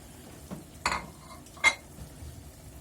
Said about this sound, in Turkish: Karıştırmaya devam edelim şöyle.